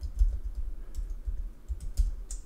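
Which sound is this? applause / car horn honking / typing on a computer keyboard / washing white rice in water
typing on a computer keyboard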